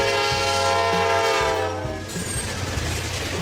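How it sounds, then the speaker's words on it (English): Double-decker SEPTA commuter train rolling past with a long, loud, steady horn blast that cuts off after about two seconds, leaving rumbling wheel and rail noise. "Double-decker train."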